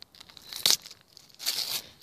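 Adhesive tape is torn in two short, crackly rips, close and fairly quiet, while fireworks are being set up to be lit, with no voices in between.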